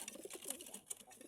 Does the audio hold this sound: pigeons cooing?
yes